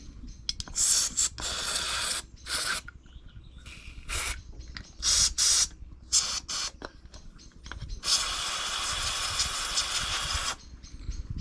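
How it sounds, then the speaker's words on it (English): Carb cleaner sprays onto the Zama carburetor of a Stihl MS200T chainsaw in a series of sharp hissing bursts, some short and one long, separated by quiet pauses and heard close up. "So again, just the carb cleaner."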